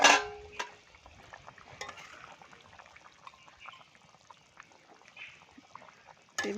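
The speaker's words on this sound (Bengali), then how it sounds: "ভাজা গুলে মাছগুলোকে দিয়ে দেবো।" Fried gule fish go into a boiling curry in a village kitchen, starting with a splash and sizzle, followed by quiet bubbling and occasional stirring and clinking close by.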